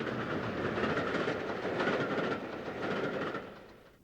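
A steam train runs past with a rumbling, clattering roll of wheels and wagons, steady at first and then fading away, heard at moderate distance with no talk.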